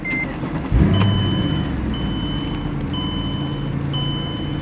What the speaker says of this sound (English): I'm gonna drive the CLK63 Black Series back. My friend's gonna drive his M4 GTS, and let's hear this thing roar.